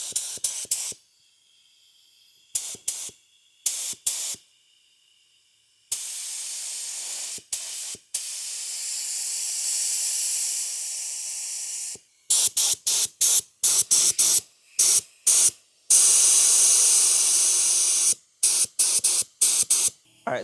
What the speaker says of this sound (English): I'm going to do a couple of test runs and on cardboard just to see how well it sprays and get the gun dialed in